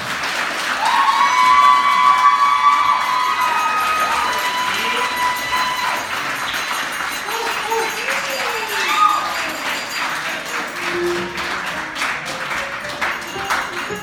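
Wedding guests cheer and applaud a couple's grand entrance at a reception, a loud sustained roar of clapping with whoops and shouts filling the room, peaking early and then holding steady.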